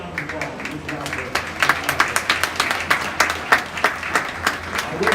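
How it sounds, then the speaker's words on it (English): A crowd at a junior livestock show gives a round of applause, with sharp individual claps standing out in an uneven rhythm over a steady wash of clapping for several seconds, and voices mixed in. "Yes, give another round of applause."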